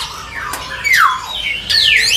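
Caged songbirds at a bird market kiosk let out several sharp, sweeping whistles and squawks, loud and close, coming in short separate bursts over faint background noise.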